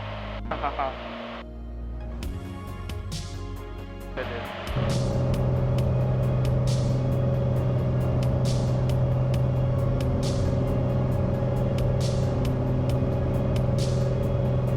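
Small aircraft engine roaring steadily in the cabin while climbing after takeoff on an EAA Eagle flight, loud and continuous after a quieter opening with radio-like chatter and speech.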